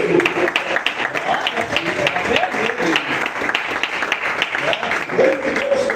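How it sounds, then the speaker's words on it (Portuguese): Congregation clapping during a church sermon, a dense round of applause in a reverberant room, with voices and shouts rising over it. "Salve de palmas."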